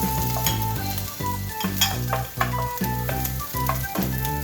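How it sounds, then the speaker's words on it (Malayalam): Chopped garlic, ginger and green chilli sizzle steadily in a hot pan, a continuous close frying hiss with occasional stirring scrapes, alone and without talk. "ഇനി ഇതിലേക്ക് ഞാൻ ചോപ്പ് ചെയ്തിട്ടുള്ള ഗാർലിക് ഇട്ടു, ജിഞ്ചർ ഇട്ടു, പിന്നെ പച്ചമുളക് ഇട്ടു."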